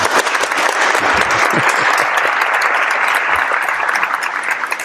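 Loud applause from a live studio audience fills the whole stretch, a dense steady clatter of many hands clapping with faint voices mixed in.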